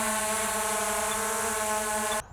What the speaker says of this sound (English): All right, the drone is hovering.